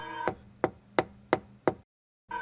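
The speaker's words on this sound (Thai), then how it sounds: "ทีนี้ผมก็ได้ยินเสียงเคาะกระจกจากข้างๆดังขึ้น" Five sharp knocks on a car window at an even, moderate pace, close and distinct, followed by a brief silence.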